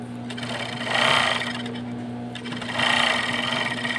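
A 4-thread overlock sewing machine runs in two loud bursts of steady whirring stitching, each about a second long, with a quieter mechanical hum between them.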